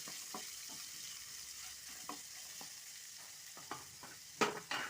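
Sliced onion is mixed into tomato rice frying in a pan, giving a soft, steady sizzle with intermittent spoon scrapes that get louder and sharper near the end.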